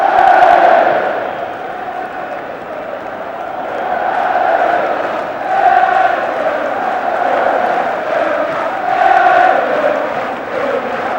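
Large stadium crowd at the 1993 FA Cup Final replay between Arsenal and Sheffield Wednesday cheering loudly, a sustained roar of thousands of fans swelling and easing in waves as the cup is presented.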